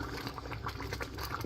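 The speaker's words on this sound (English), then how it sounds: "getting it to boil now" Water boils in a pot of rice with a continuous rolling bubble and hiss, quiet and steady, with no talking.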